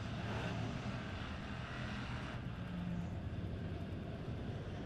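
Pure stock race cars roar at Lebanon Midway Speedway as a heat race gets underway at the Gary Woodall Memorial, a loud, continuous engine drone with no break throughout.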